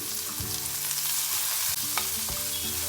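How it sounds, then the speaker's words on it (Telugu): Capsicum pieces with green chillies and tamarind fry in a pan for a capsicum chutney, giving a steady close sizzle with occasional scrapes of stirring and no talking. "ఇప్పుడు పచ్చిమిరపకాయలు కూడా వేసుకొని వేయించుకుందాం."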